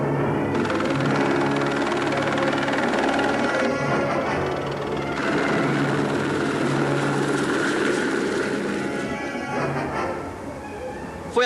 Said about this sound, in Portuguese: Foi apenas um helicóptero